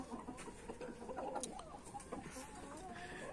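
A rooster clucks and murmurs in short, irregular bursts close by, with faint background farmyard noise and no talking.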